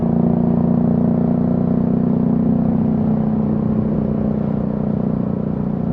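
Steady engine hum and road rush on a skyway, heard loud and close from a Dominar 400 motorcycle, with a continuous low drone and a strong humming tone throughout and no talking.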